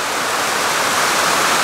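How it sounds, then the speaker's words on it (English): A river and an afternoon rainstorm at a lodge in Costa Rica combine into a dense, steady rushing hiss, loud and unbroken, with no voices. "You can hear the river. You can hear the rain."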